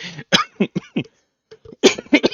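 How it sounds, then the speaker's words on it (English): A burst of harsh, rapid coughs comes in quick succession, a short pause, then another cluster of close, loud hacking coughs. "I've got a little coughing fit here"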